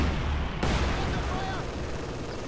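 Small arms fire crackles in a strategy video game battle, with a machine gun team in the fight; dense, continuous rattling shots mixed into a loud, noisy battlefield din that stays steady.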